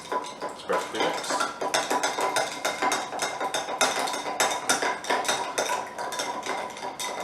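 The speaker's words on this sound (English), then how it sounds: "you're going to stir it until it's perfectly mixed" Ice cubes clinking and rattling against a glass as a tequila old-fashioned is stirred, a busy run of bright close clinks that goes on without a pause.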